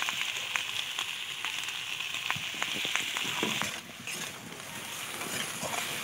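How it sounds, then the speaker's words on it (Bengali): Cauliflower with turmeric fries in a wok, filling the clip with a continuous close sizzle dotted with sharp pops and spatters, easing slightly toward the end; no one talks. "একটু হলুদ দিয়ে একটু ভাজা ভাজা মতন করে নেব।"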